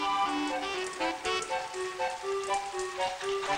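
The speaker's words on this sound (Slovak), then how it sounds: "Ako dážď prišiel, tak rýchle aj odišiel." Steady rain patters continuously, with light melodic tones ringing over the shower.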